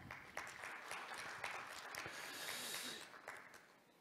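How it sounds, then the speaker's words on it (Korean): A conference audience at an international heritage forum applauds a finished presentation with fairly faint, scattered claps and a brief louder swell, heard from a distance with no speech over it. "다시 한번 큰 박수 부탁드립니다"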